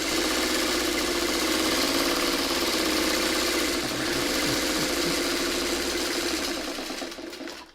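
A sewing machine stitches pinwheel quilt pieces with a steady, continuous mechanical whir that runs throughout and eases off at the very end.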